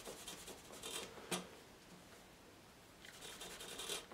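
Tissue dabbed and rubbed against a wet watercolour painting done with black ink, soft close papery brushing strokes in short bursts with brief pauses between them, faint and intimate.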